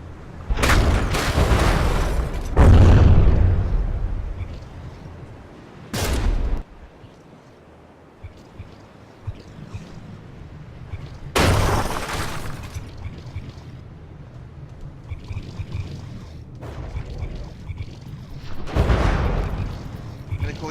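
Frigates trade shell hits and gunfire in the From The Depths naval combat game, with heavy booming impacts and explosions at irregular intervals, some long rumbling, between quieter stretches of lighter fire, while a voice talks throughout.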